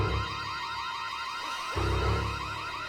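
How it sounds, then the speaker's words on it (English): A burglar alarm in the video game The Sims 1 sounds with a repeating warbling electronic siren, loud and continuous, with a low rumble joining partway through. "Another place you can put the burglar alarm is directly at the corner of your lot."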